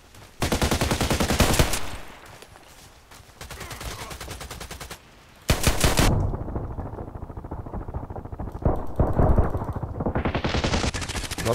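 Rapid video game gunfire from an HK USP pistol in Contract Wars, loud close shots in dense rattling strings that keep going through most of the stretch with brief pauses, with no talk over them.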